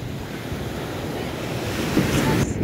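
Sea waves on a beach in Bangui, Ilocos Norte, a steady broad wash of surf mixed with heavy wind buffeting the microphone, continuous and close.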